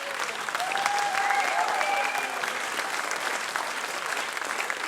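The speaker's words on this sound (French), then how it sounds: "J'aimerais bien qu'on applaudisse bien fort Wilfried pour" Audience applause at a school ensemble-class concert, honouring a drummer: a steady, dense wash of clapping from a room full of people that carries on evenly, with a faint voice briefly rising above it.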